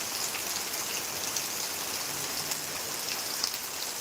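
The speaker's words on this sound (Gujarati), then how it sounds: "ખાલી વરસાદ જોવો કેવો વરસાદ આવે છે" Heavy rain pours steadily onto a flooded village road during a storm, a dense, even hiss of drops on water and pavement with no voices, constant from start to finish.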